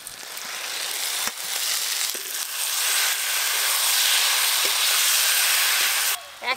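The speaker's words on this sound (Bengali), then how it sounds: "ওপর দিয়ে ভেজে রাখা বেগুন আর ভেজে রাখা আলু দেব।" Fried eggplant and potato pieces go into a sizzling spice masala with whole onions, a loud, steady frying sizzle with a few sharp clicks of a utensil near the start and end.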